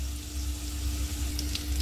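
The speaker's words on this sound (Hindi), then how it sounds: "तड़का रेडी है इसको दाल पे डाल दिया ये बघार लग गया हमारा" Hot oil tempered with cumin is poured onto cooked dal, producing a steady close sizzle and hiss with a low hum beneath it, continuous for the whole moment.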